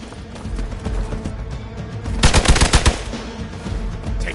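Bursts of rapid gunfire from a Marvel Midnight Suns battle, a tight cluster of loud shots in the middle, heard alone with no talking over it.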